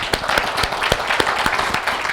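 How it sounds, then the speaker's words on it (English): Applause at a corporate team-building event, heard as distinct, fairly close claps in a loose irregular rhythm over a background of lighter clapping from a small group. "Let's give them another round of applause."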